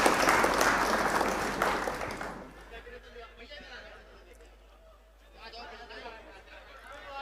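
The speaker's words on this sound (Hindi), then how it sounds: "आपने वादा किया था ताली बजाने का भाई" A mushaira audience claps for a couple of seconds, a dense burst of applause mixed with crowd chatter, then fades into quieter murmuring and talk.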